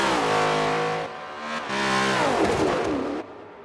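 V8 race cars on a racing circuit, loud engines roaring past close by, pitch sweeping and shifting as two cars pass in quick succession, with no talk.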